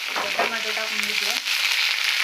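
Chopped tomatoes with coriander sizzle steadily in a hot pan for tomato chutney, a continuous bright hiss with faint scraping of stirring, close and fairly loud.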